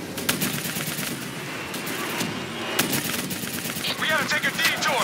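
Gunfire aimed at a VTOL aircraft in the video game Call of Duty Black Ops 3: rapid bursts of machine-gun fire over a dense roar of battle, with a shouted voice near the end.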